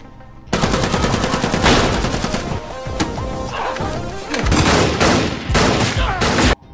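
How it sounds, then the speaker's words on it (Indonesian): Loud, rapid bursts of gunfire in a film shootout inside a prison, with crashing impacts, near and intense, rattling almost continuously with brief pauses. "ternyata ada pria bersenjata yang melepaskan tembakan"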